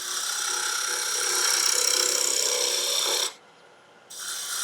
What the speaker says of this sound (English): So now I'll start shaping again. The 3/4 inch continental spindle gauge.